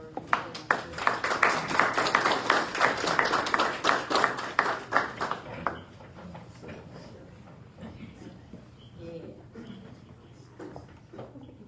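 A council meeting audience gives a round of applause, dense rhythmic clapping for about five seconds that then fades into softer scattered claps and murmuring voices in the room.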